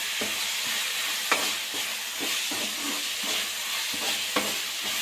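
Tomatoes with salt frying in a pan for egg keema, a continuous hissing sizzle with regular scraping stir strokes every half second or so, close and steady, no voices.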